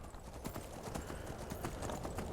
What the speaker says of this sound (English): Now the horse is trotting.